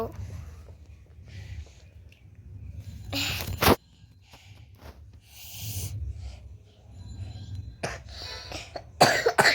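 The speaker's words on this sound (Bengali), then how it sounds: "এই বউ কি এরকম কাশি হয়" Several sharp bursts of coughing and throat clearing, close and loud, separated by pauses, with some talking in between.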